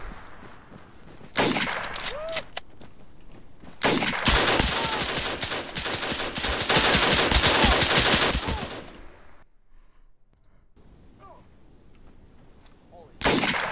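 Heavy gunfire from the video game Arma 3: loud, dense bursts and sustained volleys of rifle and machine-gun fire, with a brief quieter lull before one more sharp burst at the end.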